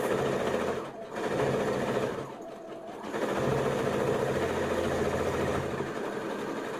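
A sewing machine stitches across fabric in a steady, rapid motorized whir, briefly easing off twice before running on continuously at close range.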